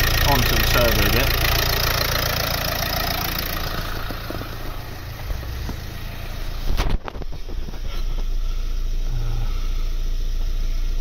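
Nissan Qashqai engine running during a turbo boost fault diagnosis, a steady mid-pitched idle with a brief clunk near the middle, talk faintly over it.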